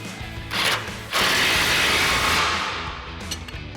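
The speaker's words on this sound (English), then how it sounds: "we'll grab our 27mm socket and 21mm wrench." Ratchet fitted with a 27mm socket working on a Ford F-150 truck's suspension during a lift kit install, giving a close, loud burst of mechanical clicking and rubbing, with no talking.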